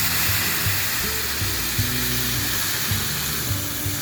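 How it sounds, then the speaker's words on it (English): Bourbon bubbling and cooking off in a hot pan on a stove, a steady loud hiss and sizzle continuing unbroken throughout with faint low thumps beneath. "Just trying to cook the alcohol off without taking all of the liquid."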